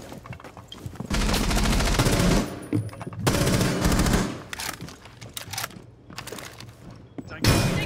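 Gunfire in Rainbow Six Siege, loud sustained bursts of automatic fire in several long volleys with short gaps between, a heavy blast-like burst at the very end.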